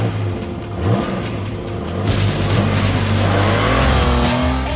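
A TVR T350C prototype car pulls hard off the line, its engine revving up through rising pitch in a loud, close roar with a brief tire chirp, no talking.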